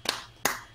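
Two sharp hand claps spaced about a third of a second apart, close and fairly quiet, with no voices.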